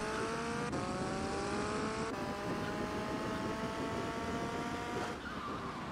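A motorcycle ridden in GTA Vice City Remastered drones steadily with a loud engine whine that climbs in pitch, drops abruptly at each of several gear shifts, and then climbs again.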